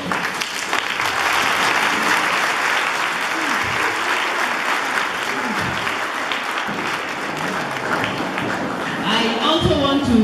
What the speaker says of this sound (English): So all of us are going to stand up and clap very well for her.